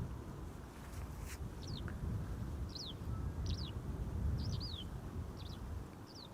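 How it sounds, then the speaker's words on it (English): Small birds near the runways of Amsterdam Schiphol Airport give short, repeated chirps, faint and evenly spaced, over a steady roar of wind and distant rumble. "I can hear birds chirping."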